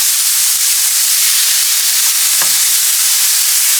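Carrots fry in oil in a pan, making a steady, loud, continuous sizzle and hiss throughout, with one brief stir or clink partway through.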